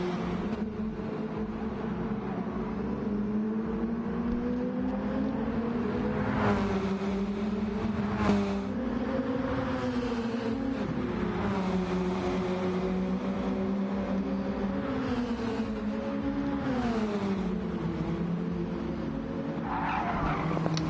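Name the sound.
race car engines in a racing video game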